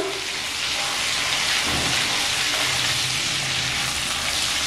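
Ginger paste frying in a pan over a low flame gives a steady, dense sizzle that hisses evenly and without a break, close up and heard alone.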